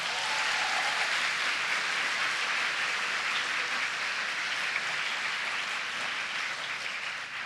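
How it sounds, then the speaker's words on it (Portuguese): A church congregation applauds at an evening service, a dense, steady wash of many hands clapping together at moderate distance, sustained evenly for several seconds with no voices rising above it. "Vocês podem aplaudir Jesus?"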